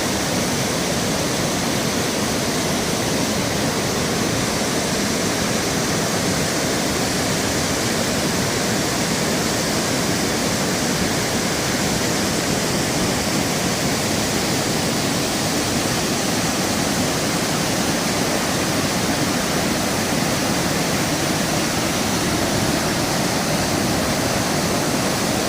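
Bhatinda waterfall in Dhanbad, Jharkhand, gives a constant, dense rushing roar of falling water, loud and unbroken for the whole stretch, with no voices over it.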